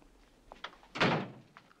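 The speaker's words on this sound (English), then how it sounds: "Close the door." A door pulled shut with a single solid thunk and brief rattle, preceded by a few light clicks and knocks from handling, close by and alone.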